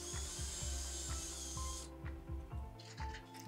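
Drill bit with sanding paper smoothing the inside of a PVC pipe, a close, continuous whirring grind with a rhythmic scraping pulse, the motor pitch dropping partway through.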